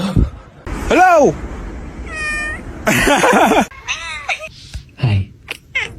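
A kitten meows repeatedly up close, with clear rising-falling cries spread across a few seconds, mixed with loud rustling and handling noises nearby.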